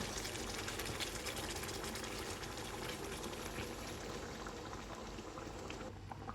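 Water boils steadily in a pan of chicken and potato curry, giving a dense, continuous bubbling hiss close by that stays even throughout, with no voices.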